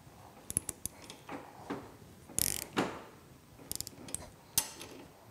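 A ratchet clicks while tightening a ROX Speed FX adjustable riser on a Ski-Doo REV 700 snowmobile, giving quiet, close, irregular runs of sharp metallic ticks with short pauses between strokes.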